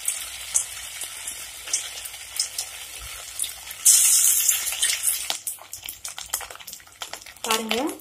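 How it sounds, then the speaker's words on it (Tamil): Small hand-rolled rice bonda balls drop into hot oil, giving a bright hissing sizzle that surges and then crackles on, with scattered clinks and faint background noise around it. "நான் எண்ணெய் ஏற்கனவே சூடு பண்ணி வச்சுருக்கேன்,"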